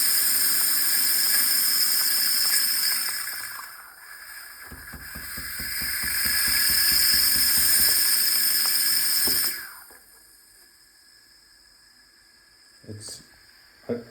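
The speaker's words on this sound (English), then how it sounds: "If you turn to the hot water, it releases all the leftover steam" An espresso machine steam wand gives a loud, steady hiss of steam that pauses, rises again with a rapid fluttering rattle as leftover steam releases through the hot water setting, then cuts off, leaving quiet with a couple of small clicks.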